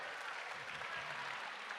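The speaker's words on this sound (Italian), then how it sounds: "Applauso bellissimo" Faint, even applause from a live audience at an outdoor show in Ollolai, a soft continuous patter of many hands, distant and low in level for under two seconds.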